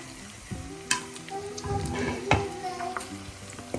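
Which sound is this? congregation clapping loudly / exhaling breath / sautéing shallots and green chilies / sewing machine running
sautéing shallots and green chilies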